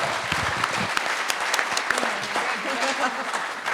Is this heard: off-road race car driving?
no